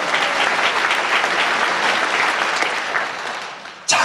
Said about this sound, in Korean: 박수 한 경 드리겠습니다.